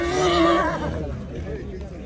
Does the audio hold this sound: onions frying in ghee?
no